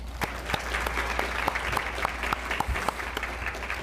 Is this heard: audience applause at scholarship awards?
yes